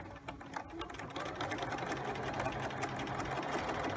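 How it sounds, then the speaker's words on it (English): A sewing machine runs continuously, stitching a lapped zipper seam, with a fast steady mechanical whir and rapid needle clatter close by throughout. "We're stitching from the bottom up to our perpendicular pin."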